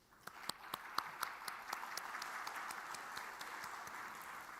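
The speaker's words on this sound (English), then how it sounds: "So please welcome her once again with a big round of applause." Audience applause at the opening ceremony of a defense dialogue conference in Seoul, faint and distant, with scattered sharp individual claps over a soft steady wash of clapping.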